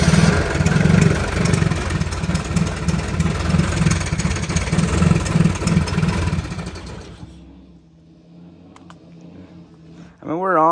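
A fuel-injected 1972 Honda N600 engine idles loudly and steadily with a slightly uneven throb for about seven seconds, then cuts out to near silence before a brief rising whine near the end.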